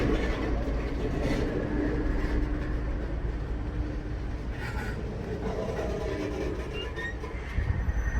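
A long freight train made up of tanker cars rolls past close by, a steady, loud rumble of wheels and rail noise with faint squeals that holds for the whole stretch.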